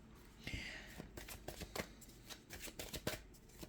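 Tarot cards being shuffled and drawn by hand, with a quick series of soft, close riffling snaps and taps over a few seconds in a quiet room.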